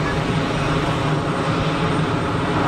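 A fixed-wing airliner at Geneva Airport, a week into service, roars with a loud, steady engine rumble and whine that fills the whole stretch without letup.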